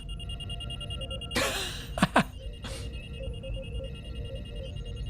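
Alarm beeping inside a Star Trek: Resurgence starship scene, a steady electronic tone pulsing throughout, briefly cut across by a few louder bursts of game sound.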